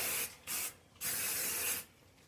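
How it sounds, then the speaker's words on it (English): Three bursts of aerosol hairspray, close and fairly loud, the last one longest, with brief quiet gaps between them. "And then you're going to spray it all together."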